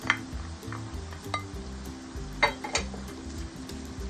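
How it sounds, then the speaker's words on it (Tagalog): Onions sautéing in a pan with garlic and ginger for papaitan, a steady close sizzle under repeated clinks and scrapes of a utensil against the pan. "Sauté lang muna natin ang ating sibuyas."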